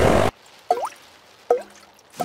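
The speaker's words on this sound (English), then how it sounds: "It is raining and the school roof is leaking." Rainwater dripping through a leaking school roof in a cartoon, a few separate plinking drops at a steady interval, each bright and close, with quiet gaps between them.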